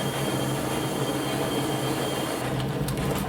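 An overheating-train sound effect from the video game Unrailed, a dense continuous mechanical hiss and whir with a steady low hum, loud and unbroken with no talking.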